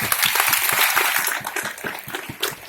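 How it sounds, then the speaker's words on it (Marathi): An audience at a Meghdoot stage performance in a Pune auditorium bursts into loud, dense applause. Many hands clap together in a steady, close roar for the whole stretch. "आपण त्यांच्यासाठी टाळ्या वाजवूया"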